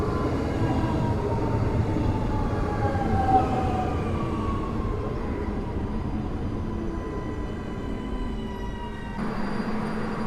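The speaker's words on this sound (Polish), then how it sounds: "Warszawska kolej dojazdowa EN97 kierunek Warszawa Śródmieście WKD" A WKD EN97 commuter train in Warsaw hums steadily at a station, electric motor whine gliding in pitch over a continuous rolling rumble, moderately close and without talk.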